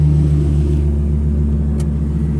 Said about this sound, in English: All right, so truck's running.